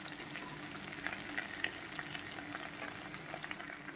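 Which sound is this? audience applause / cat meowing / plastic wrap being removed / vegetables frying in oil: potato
vegetables frying in oil: potato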